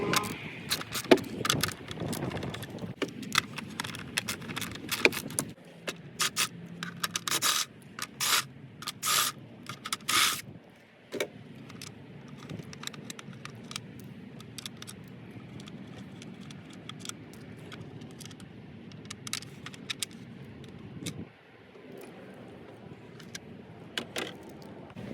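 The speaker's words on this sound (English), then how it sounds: "Using a 10mm socket, you can remove the 5 bolts." A 10mm socket removes the engine cover bolts on a 2012–2016 Honda CR-V: faint, intermittent clicks, scrapes and metallic taps of the tool in short bursts, separated by quiet stretches and low handling noise.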